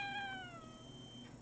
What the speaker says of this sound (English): She just meows and meows me